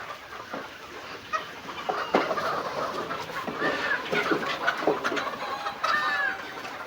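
Several Sylheti Fayoumi chickens cluck steadily at close range on a farm, their short, overlapping calls running continuously with no voices.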